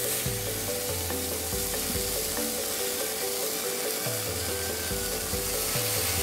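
A grilled cheese sandwich fries in a non-stick pan with a dense, steady sizzle, accompanied by a repeating low melodic pattern underneath, with no speech.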